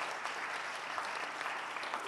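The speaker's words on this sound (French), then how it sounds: "Oui, on peut l'applaudir, je pense." An audience at a regional conference gives steady, faint applause after a presentation, a dense even patter of clapping from a distant hall crowd.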